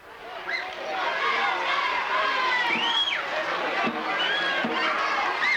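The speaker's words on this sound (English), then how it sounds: "This big homecoming crowd here in Cortez has come to life." A big homecoming football crowd in Cortez roars and cheers steadily, dense and sustained, with shouts and whistle-like calls rising above a broad wash of voices.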